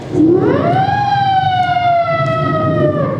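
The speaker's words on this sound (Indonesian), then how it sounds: "Ada ambulan ya" An ambulance siren wails on a road near Blitar, its tone rising steadily and then holding a long sustained pitch. Loud and close, it sounds alone over steady road rumble.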